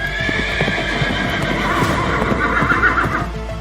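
A horse gallops with rapid, loud clip-clop hoofbeats throughout, and a long, high whinny rises and wavers over the pounding in the second half.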